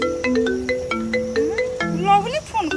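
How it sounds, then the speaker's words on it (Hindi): Mobile phone ringtone playing a bright, melodic electronic tune of short repeated notes and rising trills, fairly loud and close, with no talk over it. "फोन"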